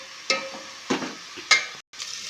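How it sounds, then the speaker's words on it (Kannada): Ginger-garlic paste and onion frying in oil for a fish sambar, a close steady sizzle punctuated by three crisp spatula scrapes against the pan and a brief silent gap before the sizzle resumes. "ಈ ಥರ ಚೆನ್ನಾಗಿ ಎಣ್ಣೆಯಲ್ಲಿ ಫ್ರೈ ಮಾಡಬೇಕು ನೋಡಿರಿ."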